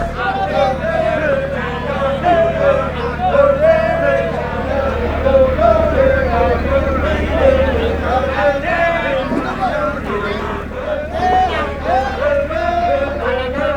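A group of fishermen on a marlin-fishing boat sing together in a wavering, chant-like chorus, with a low engine drone humming beneath them.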